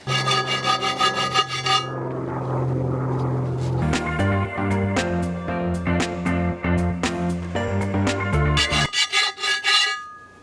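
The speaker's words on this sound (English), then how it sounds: "if I just keep on filing, I'll be filing too much of the wheel away" A hand file scrapes back and forth over curb marks on a VW MK2 GTI alloy wheel in quick repeated rasping strokes, loud and close, with no talking.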